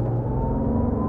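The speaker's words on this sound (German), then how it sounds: "Das Tolle ist der Sound bei dem Wagen. Der Sound ist klasse." A 2016 Porsche 991 R with a manual gearbox and a 500 hp engine drives past, its engine giving a steady close drone with a clear tonal whine, briefly and without voices.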